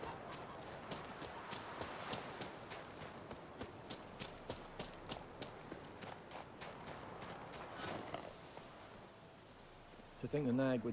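A horse in The Witcher 3 clip-clops at a walk, hooves steady and fairly close, with a brief louder burst near the end.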